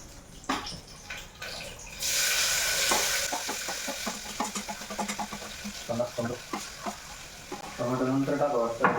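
Chopped onion tipped into hot oil in a home kitchen pan, breaking into a bright sizzle that continues steadily while a spoon stirs and scrapes in uneven bursts, with someone speaking at moments.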